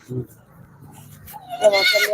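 A mother goat whose kid has been taken away bleats a loud, strained call near the end, following quieter rural background noise and a brief earlier voice.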